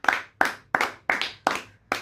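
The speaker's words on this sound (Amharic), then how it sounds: "እሸቱ ተስፋዬ አጨብጭቡለት እስኪ።" Six slow, evenly spaced claps ring out close and clear, praising a child during a children's game show, each clap sharp with a short decay and a brief gap of quiet between them.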